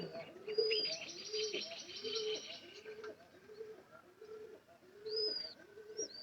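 Pigeons coo in a steady run of soft, rhythmic calls close by, with brief higher chirps and tweets from other birds overhead; no voices.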